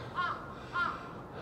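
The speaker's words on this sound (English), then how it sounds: "The crows are welcoming me." Two loud caws from crows near a shrine on a Tokyo street, spaced about half a second apart, ring out over a steady city background hum.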